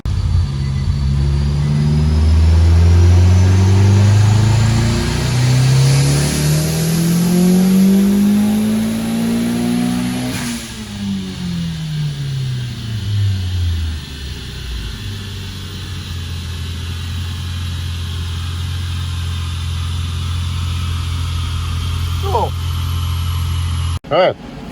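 A custom car engine on a dyno winds up in one long, loud rising rev to a peak, then drops away and settles into a steady idle rumble, with a brief sharp noise near the end.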